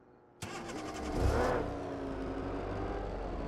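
A car engine in a video game cranks and catches abruptly, briefly revs up, then settles into a steady low idle hum.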